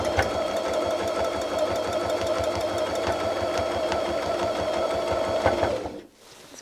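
A sewing machine stitches a butterfly appliqué on a quilt, running in a steady, loud rapid rhythm of needle strokes for about six seconds before stopping abruptly.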